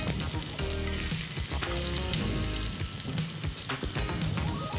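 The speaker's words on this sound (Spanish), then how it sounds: "Y lo que vamos a hacer es ponerla en la sartén, con un poquitito de aceite." Thin strips of sliced vegetable sizzling and crackling in a little oil in a frying pan, a loud, continuous spitting hiss with occasional stirring, close up and without speech.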